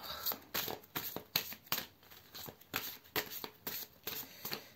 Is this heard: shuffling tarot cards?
yes